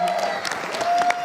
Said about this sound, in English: So can we give a big round of applause to Dhwani and Visha for an amazing performance?